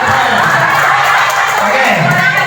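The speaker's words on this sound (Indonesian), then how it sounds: "Beri tepuk tangan." An audience at a school teachers' training session claps and cheers loudly after a list of scores is announced, with shouts and whoops mixed through the applause, which stays close and steady for a couple of seconds.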